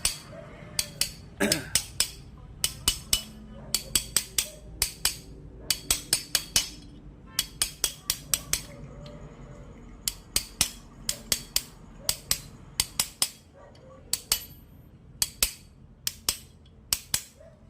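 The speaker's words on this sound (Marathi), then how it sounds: "दाबल्यानंतर थोडं हळूहळू सगळ्या बाजूने ठोकत घ्यायचं." An oil seal is tapped into place with a hammer, worked all around its edge in a series of sharp metallic knocks. The strikes come in quick bursts with short pauses between them, close by and clear.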